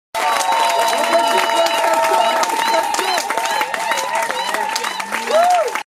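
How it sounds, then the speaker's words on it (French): Crowd applause and cheering at a dot (traditional marriage ceremony) for Maria and Adam in Congo-Brazzaville, a loud, dense, sustained wash of clapping with shouts, whistles and voices mixed in throughout. "Vraiment, je veux demander des applaudissements prolongés"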